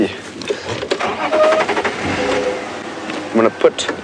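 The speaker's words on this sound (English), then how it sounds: "So I'm just going to start the car." A safari vehicle's engine cranks and turns over, settling into a running rumble, with a brief voice and movement noise toward the end, at a game reserve.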